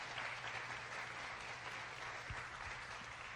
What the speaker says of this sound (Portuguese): se for para Jesus, você pode aplaudir